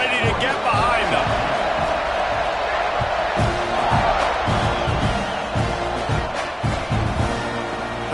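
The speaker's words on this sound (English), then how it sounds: "this crowd now ready to get behind them" A stadium crowd at a college football game in the NCAA 26 video game keeps up a constant roar, with thuds and claps under it and a commentator speaking.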